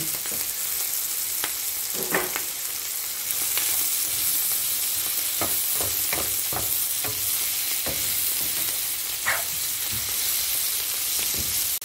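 Chicken hearts and mushrooms fry in butter in a pan, a steady loud sizzle with scattered stirring scrapes and clicks from a utensil throughout, and no voices.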